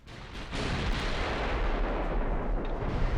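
Battleship gunfire and shell hits in the Ultimate Admiral: Dreadnoughts naval warfare game, a rising wall of rumbling booms that swells after half a second and holds as a dense, loud barrage with no speech.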